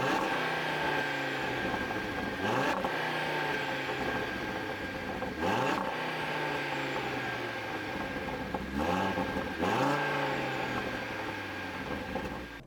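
A 2022 Audi RS 3's 401-horsepower engine revs hard through repeated gear changes, pitch climbing then dropping at each shift, loud and close as the all-wheel-drive car accelerates.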